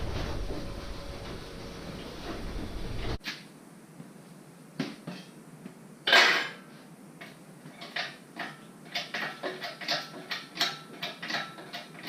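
Ratchet clicking as a bolt is removed from a Jeep XJ engine, a series of short close mechanical ratcheting bursts in an uneven rhythm after a noisy opening, without talk.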